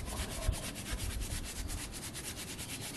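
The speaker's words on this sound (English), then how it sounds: "Give it a rub with Brillo pad or pot scrubber, and it's coming off, no problem." Brillo pad or pot scrubber rubbed over rusty metal that has been cleaned with a car battery charger, leaving a black oxide coating; steady rhythmic abrasive scrubbing strokes, close up and alone.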